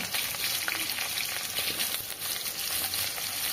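Potatoes and green chillies hiss in hot oil tempered with black cumin seeds, producing a dense, unbroken sizzle that stays loud and close for a few seconds with no voices.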